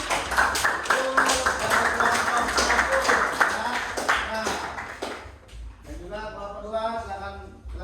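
A class claps in a lively burst of scattered applause for a few seconds, which then dies away as a voice begins speaking.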